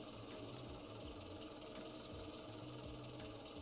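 Rough truck engine running with a steady mechanical chatter and an uneven, knocking low throb, continuous and fairly faint, heard alone with no talk.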